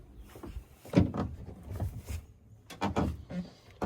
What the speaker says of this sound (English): Putting these doors, I noticed a little creaking noise.